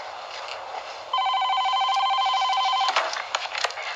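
An old-style telephone bell rings in a hotel suite with a steady electronic trill that starts partway in, holds loud for about two seconds, then gives way to a brief clatter as the receiver is picked up.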